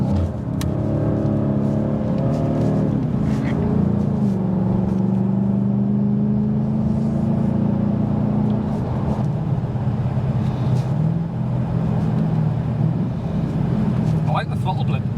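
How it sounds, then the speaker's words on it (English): A Ford Mustang GT 5.0 with an Akrapovic exhaust revs with sharp throttle blips, then settles into a deep droning growl as it cruises, loud and close beneath people talking. "I like the throttle blip."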